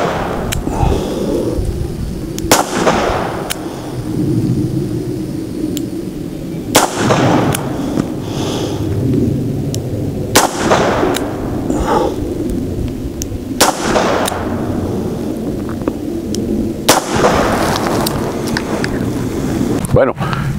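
A Rossi 873 .357 Magnum revolver fired double action at a target about 15 metres away, five sharp, loud reports spaced a few seconds apart, with wind noise in the background.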